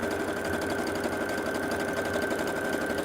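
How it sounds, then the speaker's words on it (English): A sewing machine stitches quilting lines across a small scrappy autumn zipper pouch without a walking foot, a fast continuous whirring hum with a rapid needle patter, steady and close throughout, with no talking. "I'll stitch all in one direction without a walk-in foot because it's a small project"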